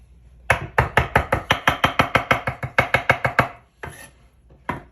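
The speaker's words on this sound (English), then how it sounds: "Give this a little fine chop here." A knife finely chopping fresh cilantro on a cutting board, a quick steady run of about twenty crisp, close taps followed by a few slower scattered strikes.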